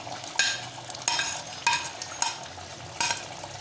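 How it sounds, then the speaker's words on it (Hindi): A spoon stirs aloo matar gosht curry in a pan, giving about five distinct scraping strokes at an irregular pace over a soft background sizzle. "आराम आराम से चम्मच मारेंगे ताकि आलू और गोश्त जो है हमारा टूटे"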